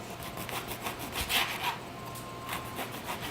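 A knife saws through a baked red velvet biscotti log, trimming off the end with a few soft, rasping back-and-forth strokes, close and quiet.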